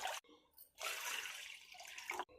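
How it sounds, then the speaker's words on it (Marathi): Two glasses of water are poured into a cooking pot in a home kitchen for pani puri, a short splashing pour with a brief gap partway through, close and fairly quiet. "एका पातेल्यामध्ये 2 ग्लास पाणी।"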